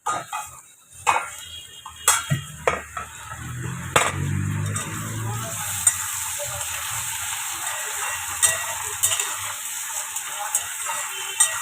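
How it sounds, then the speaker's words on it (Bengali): Potatoes and onions frying in a home kitchen pan, with a few sharp clatters and knocks at the start, then a continuous sizzling hiss that carries on steadily to the end. "আলু পেঁয়াজ ভাজছি,"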